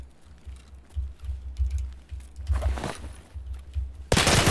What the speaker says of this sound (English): there's been way too much shooting over here